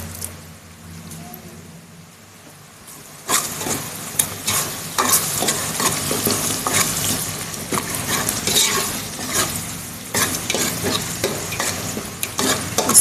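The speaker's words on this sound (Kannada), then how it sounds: "ಸ್ವಲ್ಪ ಚೆನ್ನಾಗಿ ಫ್ರೈ ಆಗಲಿ." Tomatoes and yogurt fry in oil while a spoon stirs them. A quiet start gives way to loud, close sizzling with steady scraping and occasional clinks of metal against the pot.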